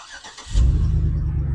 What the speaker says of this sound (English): Push and hold the remote start button.